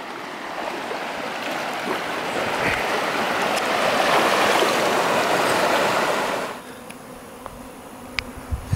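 Steady broadband rush of flowing creek water in a walled Utah canyon on the Burr Trail loop, swells through the middle, then drops off sharply, leaving a quieter hiss with a few faint clicks.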